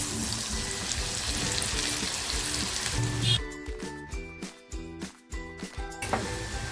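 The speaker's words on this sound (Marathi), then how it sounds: "जे खडे मसाले घेतले होते ना ते अगोदर टाकते तेलामध्ये कांदा टाकते" Onion dropped into hot oil with whole spices for dhaba-style egg masala, giving a dense, loud sizzle that breaks off after about three seconds into choppy bursts of splashing and frying, close by and without speech.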